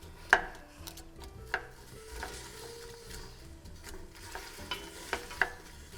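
Chopped onions beginning to cook in a pot, a soft low sizzle with occasional spoon knocks and stirring scrapes, fairly quiet and without talk.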